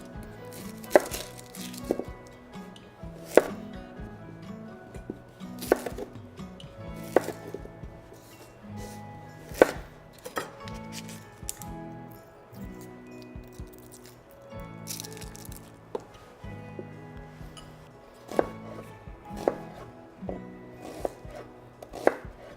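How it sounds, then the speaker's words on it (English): A knife chops onions on a cutting board in steady, close, crisp strokes, joining already diced carrots and celery for a roast duck dish, with irregular bursts of rapid cuts and brief pauses. "Let's cut our vegetables."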